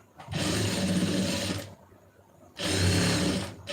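A sewing machine stitches the main fabric piece of a garment, sewn as a single layer with a quarter-inch folded edge. It runs in two steady, loud bursts of fast whirring with a short quiet pause between them.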